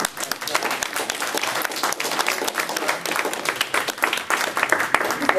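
Dense, sustained applause from a congressional briefing audience honoring the makers of a Haiti aid documentary, many hands clapping steadily throughout with a faint crowd murmur underneath.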